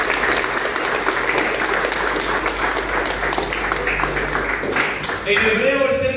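Congregation applause during a church sermon, a broad clapping wash with a voice underneath, cutting off near the end as a speaker's amplified voice takes over.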